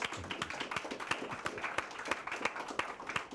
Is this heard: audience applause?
yes